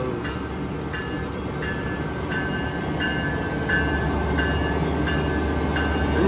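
An Amtrak Midwest passenger train rolling slowly through a station, a steady loud rumble with evenly spaced rail clicks about every second and no voices.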